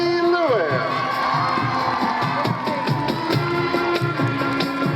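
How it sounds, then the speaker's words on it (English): Crowd at a high school football homecoming ceremony cheers and shouts loudly throughout, with children's yells and a dense steady roar of voices, while a band plays underneath. "A round of applause for Miss Lindsay Lewis."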